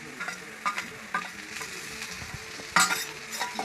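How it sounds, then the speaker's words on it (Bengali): Tomato with chili powder and Kashmiri chili powder frying for ghugni, a steady close sizzle broken by a spoon scraping and stirring through the pan, with no talking. "এবার একে একে আমি সব মশলাগুলো দিয়ে কষতে থাকবো।"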